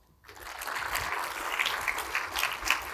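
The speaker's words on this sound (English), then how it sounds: "Please applause." Audience applause at an Eighth Air Force gathering honoring a bomber pilot's family, a broad crowd of clapping hands that swells quickly after a quiet start and holds steady and full throughout.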